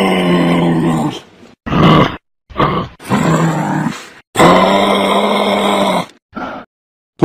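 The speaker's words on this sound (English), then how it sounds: "Kangaroo." A kangaroo gives a series of loud, deep grunting and growling calls, several separate bursts with short pauses between them, close and alone with no talk.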